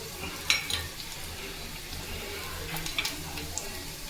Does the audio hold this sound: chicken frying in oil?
yes